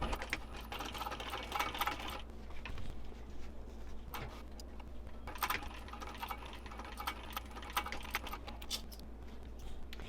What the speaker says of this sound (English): I'm going to top stitch both of them the same way